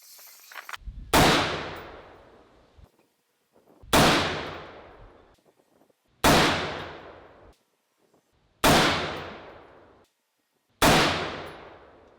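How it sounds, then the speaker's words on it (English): Five heavy rifle shots fired downrange, each a sharp loud blast with a ringing, slowly decaying tail, spaced about two to two and a half seconds apart in a steady rhythm, with no talk between them. "We will put another 5-shot group downrange and see how it goes"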